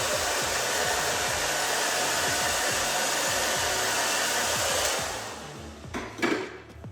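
A hair dryer blows steadily while drying short pixie-cut hair, a loud continuous whoosh that drops off near the end, followed by a few soft handling bumps.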